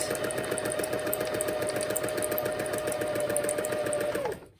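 A hand-crank sewing machine stitches through a paper project with a fast, even mechanical chatter that runs for several seconds and then stops abruptly.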